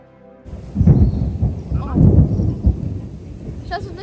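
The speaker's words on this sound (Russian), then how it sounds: "Сейчас вот начинается огромная гроза" A thunderstorm rolls in over Mombasa, Kenya, with loud deep rumbling thunder swelling and fading across several seconds, close and heavy, with faint rain and light background sounds.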